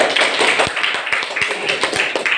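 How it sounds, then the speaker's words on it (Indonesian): A classroom group claps together in brisk, continuous applause, close and fairly loud, with no voices standing out. "Tepuk tangan untuk Ronald."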